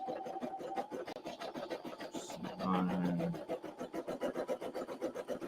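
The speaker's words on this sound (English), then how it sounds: "Just trim up these stitches, or threads rather." Small scissors snip and rasp through embroidery threads on a stitched design, a steady run of close, fine cutting and scraping strokes with a brief louder scrape midway.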